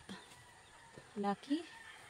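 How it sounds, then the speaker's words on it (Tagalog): A couple of short, low clucks from hens, close by but fairly soft, over a quiet background. "Yan po ang ating mga inahin."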